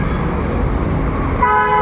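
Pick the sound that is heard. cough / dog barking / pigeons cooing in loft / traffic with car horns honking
traffic with car horns honking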